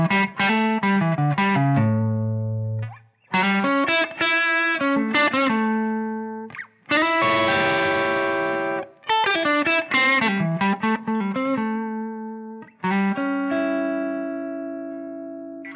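Distorted electric guitar plays triad shapes mixed with minor pentatonic scale runs, a loud continuous solo of quick note clusters and sustained chords with brief pauses between phrases, no voices.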